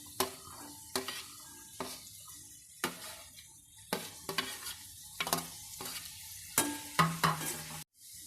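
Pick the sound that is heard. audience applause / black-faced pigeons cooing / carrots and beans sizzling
carrots and beans sizzling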